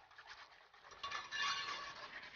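Banana pudding being stirred in a pot on the stove makes faint, soft scraping and clinking of a spoon against the pot, growing a little louder and more continuous toward the end.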